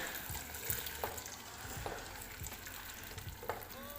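Whole spices (black pepper, nutmeg and mace) roast in a pan for a kofta curry, giving a faint, steady sizzle broken by light scraping stirs.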